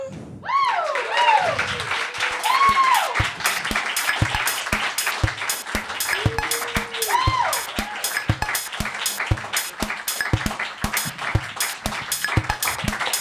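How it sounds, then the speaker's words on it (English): A live-show crowd gathered for a graduating performer's last show claps in sharp, scattered bursts that grow into steady clapping, with a few rising whoops and cheers on top, close and lively. "we should just start clapping"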